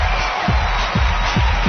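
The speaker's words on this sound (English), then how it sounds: "And the crowd goes wild." A broad roar of crowd cheering on a radio talk show, with steady low thumps pulsing roughly twice a second beneath the wash of noise, loud and continuous with no talk.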